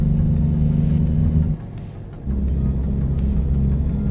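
Truck engine in American Truck Simulator, a deep steady rumble that drops briefly as if easing off the throttle, then returns to a loud drone, alone without speech.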